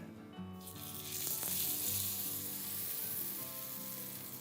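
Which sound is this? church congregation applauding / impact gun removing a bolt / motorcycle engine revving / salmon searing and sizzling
salmon searing and sizzling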